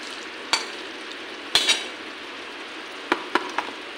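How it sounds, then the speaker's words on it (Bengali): A spoon stirs coriander leaves into a pan of rohu fish head chorchori, giving a few soft scraping clinks and brief bursts of sizzle over a quiet background, with no talking. "ধনিয়া পাতাটা মিশিয়ে নিই।"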